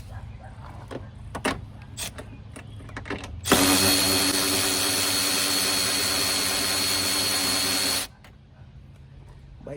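A power tool with a long deep well socket spins loose long stud nuts on an Audi Q5 rear bumper job, one sustained loud whir of about four seconds after a few light clicks and taps, then quiet.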